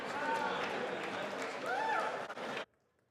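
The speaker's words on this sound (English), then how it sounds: "we heard a bunch of chants there from lawmakers clapping, chanting USA, USA" Lawmakers in the House chamber clapping and chanting in unison, a dense crowd roar of applause with rising chanted voices, ending abruptly after nearly three seconds.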